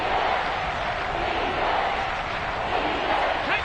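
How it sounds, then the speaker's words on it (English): A stadium crowd in the Madden 23 football video game roars in a dense, continuous wave of cheering ahead of a big third down, loud and unbroken throughout. "The crowd getting into it as we come up on a big 3rd down."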